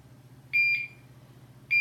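A PCA infusion pump beeps through its power-on self-test: two quick electronic tones close together, a pause, then a third, all clear against a quiet room.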